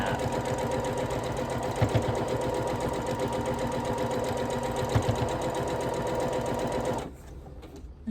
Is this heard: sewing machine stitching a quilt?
yes